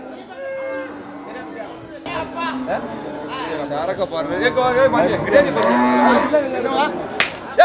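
Cattle mooing at the Melapalayam cattle market in Tamil Nadu, where dairy cows and bulls are traded: several long, low moos rise and overlap over a busy crowd of chatter and haggling voices.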